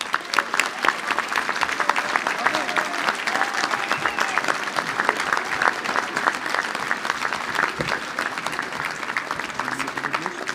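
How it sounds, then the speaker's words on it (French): Loud, dense applause from a large crowd fills the whole stretch without pause as Jérémy Ferrari is welcomed at a mayor's New Year greetings ceremony, with faint voices mixed into the clapping. "je vais vous demander un tonnerre d'applaudissements pour que nous accueillions"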